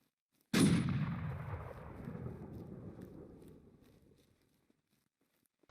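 A single loud gunshot blast in a shooting video game, with a sharp attack and a long rumbling echo that fades over several seconds, no talking.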